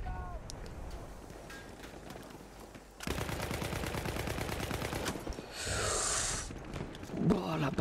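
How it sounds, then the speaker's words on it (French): Sniper rifle shot in a video game, a sudden loud report that opens a sustained stretch of harsh noise, followed by a hissing burst and scattered clatter, with some talk in the background. "Balle de snipe."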